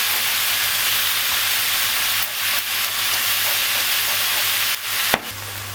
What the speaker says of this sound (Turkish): Böyle altını yükseğe açayım. Şöyle bir bırakayım. O güzelce kızarsın önce.